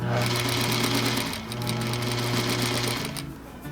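A sewing machine stitches a rolled hem using a hemming attachment that turns the fabric, a fast continuous motor drone with rapid needle rhythm, close and loud, with a brief dip midway.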